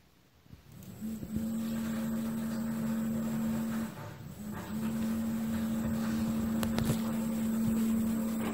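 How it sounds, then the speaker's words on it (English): A Jeep Cherokee's fuel pump runs with a steady low electric hum and faint whine, starting about a second in, briefly dropping out midway, then running on continuously close by while fuel drains. "you can hear the pump go on when you connect these."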